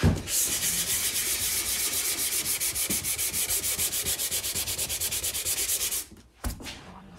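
Steady, rhythmic dry sanding of an acoustic guitar's wood finish, rapid back-and-forth scratchy strokes for about six seconds, then stopping with a couple of faint knocks.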